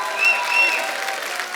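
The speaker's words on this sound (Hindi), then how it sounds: "एक बार जोरदार तालियां हमारे स्टार्स के लिए।" A studio audience on a comedy talk show bursts into loud, dense clapping for the film stars, a short burst of steady applause.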